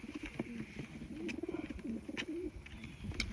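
Racing homing pigeon cooing inside a loft, a few soft, close coos in a low rolling rhythm over a quiet background with faint clicks.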